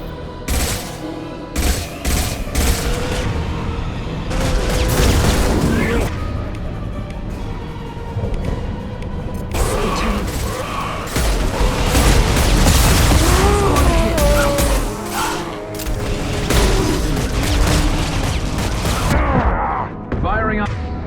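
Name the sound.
high-impact gunshots from the video game Mass Effect 2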